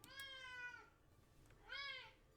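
Two drawn-out meows from a cat named Sushi, close and clear, separated by a brief pause over a faint hum.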